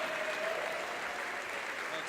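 Steady audience applause at a late-night show, a dense, even wash of clapping from a seated crowd lasting about two seconds.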